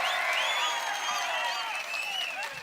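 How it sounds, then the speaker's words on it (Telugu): Crowd at a political rally applauding, a dense wash of clapping with some shouts, steady and moderately loud throughout. "గెలిపిస్తామని గట్టిగా చప్పట్లు కొట్టి మీ హర్షాన్ని"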